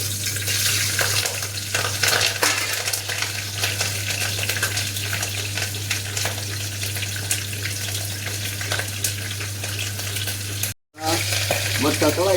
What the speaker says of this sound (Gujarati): મરચા તળાઈ ગયા છે.